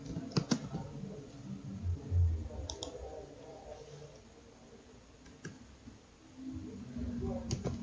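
Keys tapped on a computer keyboard while writing a heat-calculation program in MATLAB, scattered quick clicks in small bursts with quiet pauses, heard under a voice talking.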